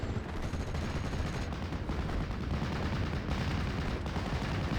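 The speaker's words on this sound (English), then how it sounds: "So there is a counter barrage hitting that mortar team." An artillery counter barrage strikes a mortar team in a WWII strategy video game, with rolling blasts and crackling gunfire blending into a dense, continuous rumble of distant bombardment.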